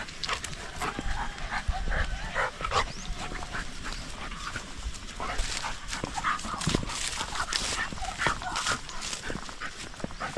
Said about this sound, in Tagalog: Inilabas po natin yung ating mga aso.